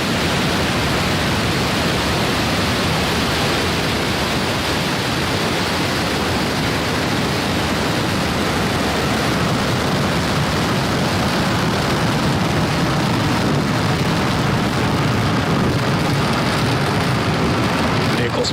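SpaceX Falcon 9 rocket roaring at ignition and liftoff on the Starlink 16 mission, a continuous loud broadband rumble sustained throughout with no letup.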